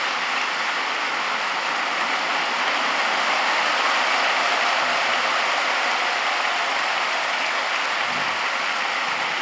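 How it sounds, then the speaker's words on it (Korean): Sustained applause from a church congregation at a Pentecost prayer meeting, a dense steady wash of clapping filling the whole stretch without pause. "박수."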